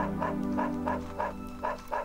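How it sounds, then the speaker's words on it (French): A dog in the video game Dog's Life barks in a steady run of about six loud, evenly spaced yaps over a constant low hum. "Oh, mais je vais japper, ça fait plus stylé."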